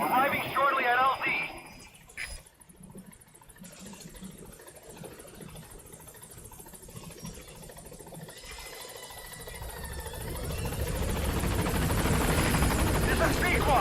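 Helicopter in Metal Gear Solid V arriving at a landing zone, its rotor drone fading then swelling louder toward the end, with radio voices talking over it.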